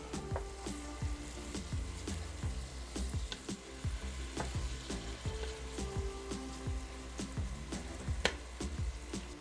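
Ground beef frying with nearly translucent onions in a pan for Pakistani kima, a soft steady sizzle broken by frequent scraping and tapping of a spoon stirring the mix, fairly quiet and without talk.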